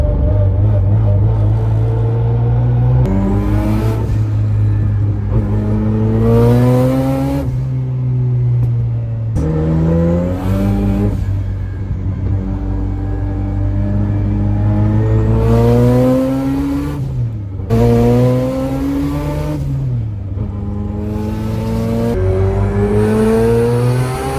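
A Mazda RX-8 with a bridge-ported 13B rotary engine, running around 400 horsepower, revs hard again and again, each blip climbing and falling in a loud, raspy, choppy wail that is close and continuous.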